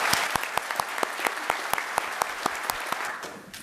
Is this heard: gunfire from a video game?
no